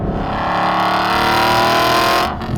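An Aston Martin V8 Vantage GT4 roars loudly with its exhaust valves open, revving hard and sustained before easing off at the end.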